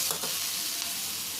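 Small-chopped onion frying in oil, a dense, loud, continuous hiss with a brief stir stroke near the start, close and steady.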